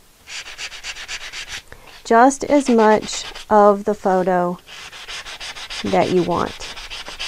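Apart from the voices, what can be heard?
sanding and scratching the edges of a photo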